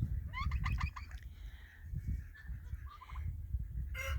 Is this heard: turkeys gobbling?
yes